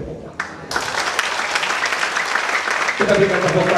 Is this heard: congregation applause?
yes